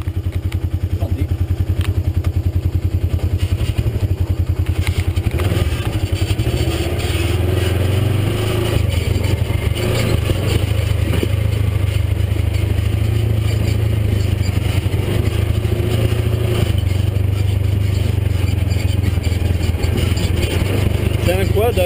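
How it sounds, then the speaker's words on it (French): A 900cc quad bike engine idles and revs steadily nearby with a rough, throaty rumble, while people talk over it throughout, among vineyards. "C'est un quad avec un moteur de 900"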